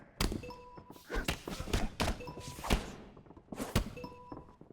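Body punches landing in the fighting game UFC 6: a string of heavy, dull thuds and thumps at an uneven pace, several close together, with crowd and arena noise between the blows.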